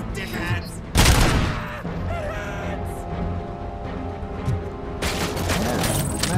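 Rapid gunfire from an Uzi and an assault rifle in a RoboCop video game, dense bursts of shots with a loud blast near the start, continuous and layered over game noise.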